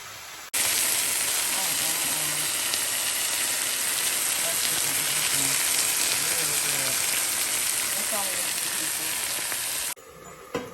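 Chicken pieces fry in a pan with a loud, steady hiss and crackle that runs evenly for about nine seconds and then cuts off abruptly, with faint speech heard beneath the sizzle.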